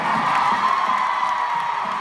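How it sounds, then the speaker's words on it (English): A large concert crowd at a show in Dublin, Ireland, cheers and whoops in a dense, continuous roar, loud and close throughout with no break. "can you guys do me a favor and give yourselves a round of applause right now?"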